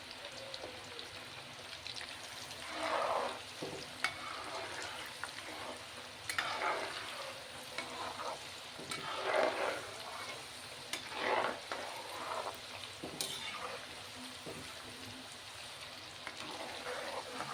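Steady crackling sizzle of spices and asafoetida tempering in hot oil, with brief louder bursts of spattering every few seconds, close by and with no voices.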